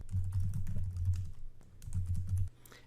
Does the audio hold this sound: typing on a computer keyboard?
yes